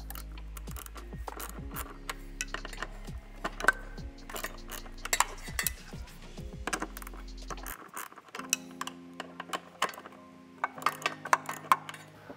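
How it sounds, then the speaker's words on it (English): A hand ratchet clicking steadily while removing the 10 mm nuts that hold the shifter cable cover on a 2015+ Subaru WRX, with rapid close metallic ticks and a low steady hum underneath throughout. "I'll just get on here with my ratchet"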